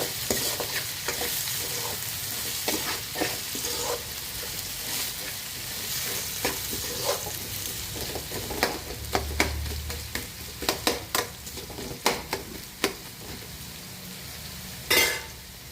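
Thinly sliced potatoes, already light brown, sizzle steadily in a pan while a utensil stirs them, giving a continuous close frying hiss broken by sharper scraping clatters that cluster toward the end.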